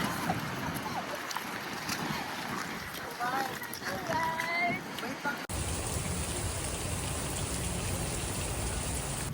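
Rain falls steadily at an inflatable water park in Subic, a dense broadband hiss that turns into an even, loud downpour in the second half, with voices talking and calling over it early on.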